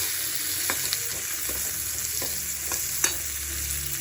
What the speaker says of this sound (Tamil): அப்புறம் வரமிளகாய், தக்காளி 1 சின்னதாக அது போட்டு நல்லா வதக்கி விடணும்.